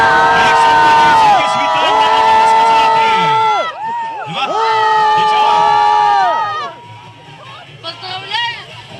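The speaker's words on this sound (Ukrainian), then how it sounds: "І ми йому аплодуємо." Crowd at an outdoor school winter parade, with loud sustained singing or chanting voices and cheering in bursts, some clapping mixed into the hubbub, and a short dip in the middle before the noise rises again.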